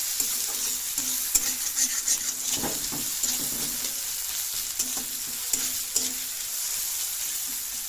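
Onion and garlic frying in a pan for a potato, eggplant and fish curry, a steady close sizzle broken by intermittent stirring and scraping strokes.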